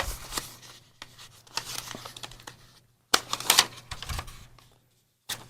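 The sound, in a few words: folding paper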